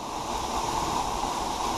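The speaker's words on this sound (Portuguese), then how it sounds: "olha a cachoeira, a corredeira" Waterfall and river rapids, a dense steady rushing roar of water, loud and close, unbroken throughout with no talking.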